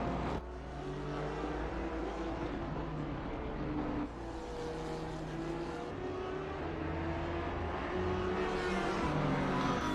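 Racing cars, including a Porsche, roar around the Spa circuit in a club race, a continuous loud engine drone with shifting pitch as revs rise and fall, unbroken throughout with no talk.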